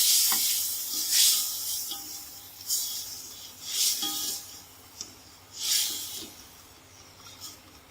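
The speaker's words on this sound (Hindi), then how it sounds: "आधा किलो गोश्त है जिसके हमने छोटे छोटे टुकड़े कर लिए हैं। अब इसको फ्राई कर देंगे।" Half a kilo of small meat pieces frying in a pan, a soft crackling sizzle that swells into several louder bursts, likely as the pieces are stirred, then fades back between them. No one speaks.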